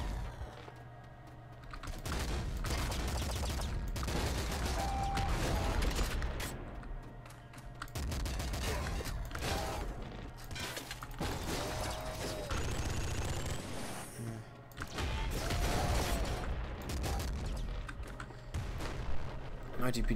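Rapid bursts of machine gun fire and other weapon shots in the top-down shooter Nuclear Throne, dense and nearly continuous for about twenty seconds, with clicky keyboard typing mixed underneath.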